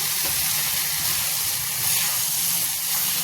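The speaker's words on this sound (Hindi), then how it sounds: "तो अब इसको हम ऐसे ही सारे मसालों के साथ ये कुंदरू और आलू भून लेंगे।" Kundru (ivy gourd) and potatoes fry with spices in a kadhai, giving a steady, even sizzle and hiss that continues without a break and sits fairly close.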